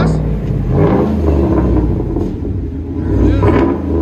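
A 2016 GMC Sierra Denali with a 6.2L V8 and straight-pipe dual exhaust revs up close by, a deep, loud rumbling that swells and eases in waves, with a voice briefly audible over it.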